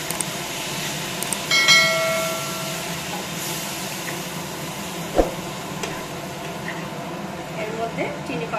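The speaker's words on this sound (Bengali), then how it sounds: "এবার আমি হালকা করে জল দেব" Water poured onto roasted semolina in a hot pan sets off a sudden hissing burst of steam that settles into a faint steady sizzle, with a voice talking over it.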